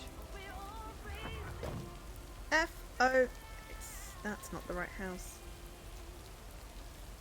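Rain falling on a parked vehicle by a mailbox, a steady soft patter running beneath someone talking, moderately close and continuous throughout.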